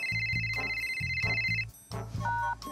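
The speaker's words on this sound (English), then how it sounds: "It's ringing!" A telephone rings loudly and steadily in a repeated electronic tone, with a rhythmic beat underneath, in a scene from the comedy film Dumb and Dumber To.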